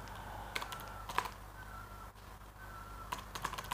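Typing on a computer keyboard in an office program, sparse light key clicks in small clusters over a quiet steady hum.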